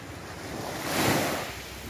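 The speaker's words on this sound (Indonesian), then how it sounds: "Ini suasana pantai" Waves wash onto a beach on the east side of Pulau Panjang, West Pasaman, Indonesia, at midday, swelling to a soft peak and receding, with wind noise in the background.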